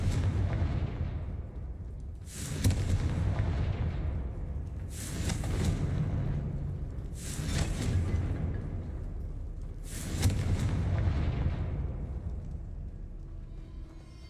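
Explosions from the Confringo spell in a video game: four heavy booming bursts spaced a few seconds apart over a constant low rumble, loud and close, with no talk.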